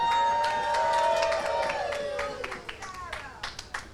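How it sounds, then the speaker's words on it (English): Wedding guests clap and cheer for Sarah and Mark, the bride and groom, indoors. Scattered applause and voices come in a short burst that thins out into sparse individual claps. "Please raise your hand and cheer the bride and bridegroom"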